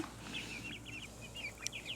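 Chickens clucking and calling softly in a crowded backyard coop, a steady run of short repeated clucks over a low constant hum, moderately distant with no talking.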